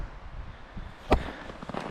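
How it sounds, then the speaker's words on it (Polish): A single firecracker goes off outdoors in the snowy Karkonosze mountains, one sharp bang mid-clip over faint wind and ambient noise, moderately distant. "O, petarda."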